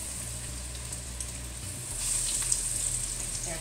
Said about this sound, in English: Now I'm going to fry the meatballs.